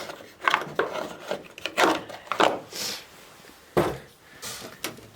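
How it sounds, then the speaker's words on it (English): A rubber grommet forced through a hole with the tip of a screwdriver or drill bit, producing a series of short, close rubbing and scraping squeaks in irregular bursts, with pauses between pushes. "I just take a screwdriver, or I'm just using the end of my bit,"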